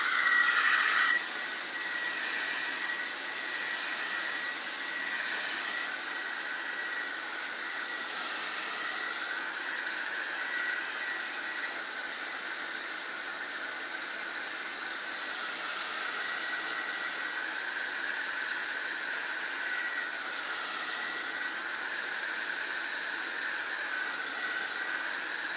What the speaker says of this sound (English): I have to blow dry this real quick.